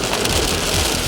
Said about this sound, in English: Heavy rain flooding the streets from Juneau all the way to Vero Beach.